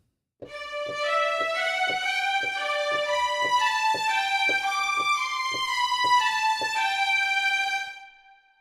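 Bowed strings play a melody with sharp, punchy sforzando accents at the start of each note, a steady series of forceful attacks with no talking.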